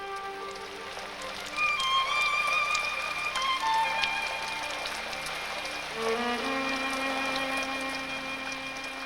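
Rain falls steadily in the Holy Land wilderness, a soft even patter that swells slightly partway through, with faint tonal sounds drifting over it and no voices.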